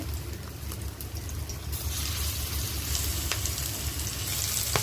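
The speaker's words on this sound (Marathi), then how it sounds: "आता मी याला फ्राय करते." Masala-coated banana flower pieces frying in hot oil, a close sizzle that grows louder and brighter partway through and then holds steady, with no speech.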